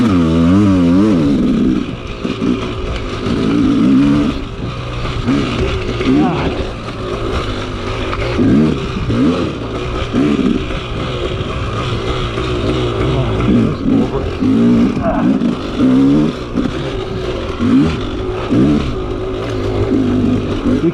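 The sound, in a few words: dirt bike engine revving while riding tight trail in 3rd gear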